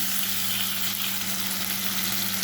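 Steady sizzle of giant taro and shrimp frying in a pan with salt and turmeric as they are stirred, a continuous close hiss over a low hum.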